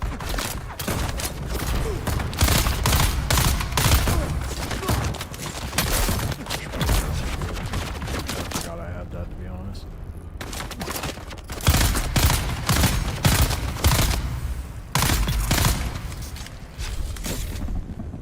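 Gunfire from the survival video game Dune: Awakening comes in dense, loud volleys of rapid shots with thuds, pausing briefly midway before another heavy burst and scattered trailing shots.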